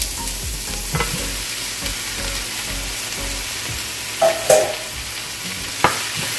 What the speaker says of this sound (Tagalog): Ayan, lagyan natin yung kamatis.